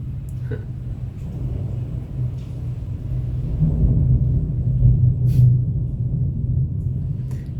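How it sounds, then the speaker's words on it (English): Thunder rumbles low and continuous outside during a storm, swelling slightly midway and heard alone without talk. "Can you hear the thunder?"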